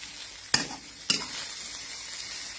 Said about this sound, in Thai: แต่ว่าเราจะมาทอดให้สุกนะคะเพื่อนๆทอดให้สุกเลย